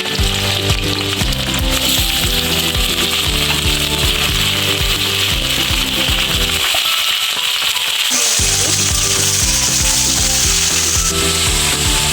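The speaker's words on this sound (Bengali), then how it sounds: "এই মাংসটা আমি ভেজে নেব।" Chicken with onion sizzles loudly in hot mustard oil, a dense, steady crackle of frying that carries on throughout, with occasional stirring scrapes.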